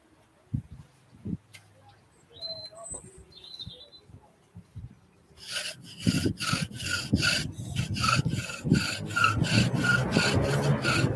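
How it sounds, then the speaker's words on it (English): A wooden bow drill part is rasped and shaved along its edges in quick rhythmic strokes, starting after some quiet handling knocks and faint bird chirps in the background, loud and close. "I do want to take away these edges and make it nice and thinner so that it's not rubbing on my bearing block"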